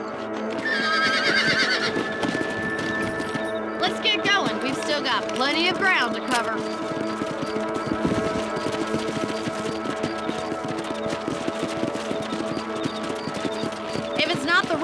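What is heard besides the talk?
horses neighing and hooves clip-clopping, from video game Red Dead Redemption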